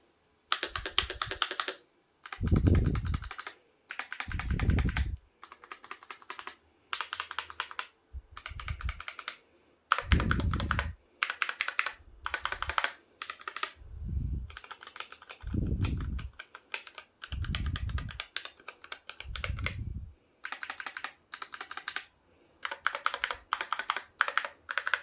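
Rapid clacky keystrokes on a Razer Huntsman V2 Analog gaming keyboard come in bursts separated by brief pauses, with some deeper thuds from heavier keys, close and alone.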